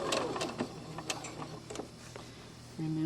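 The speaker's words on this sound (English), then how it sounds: "I'm going to stitch right over those." A sewing machine stitches over small pinned pleats on a doll dress, with a few quick mechanical bursts and ticks near the microphone, then a short steady motor hum near the end.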